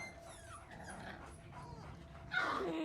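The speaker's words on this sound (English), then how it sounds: "Puppies? Oh, is it puppies?" Puppies whimpering in the TV series Chernobyl with thin, high whines over a steady background murmur, a sharper yelp rising near the end.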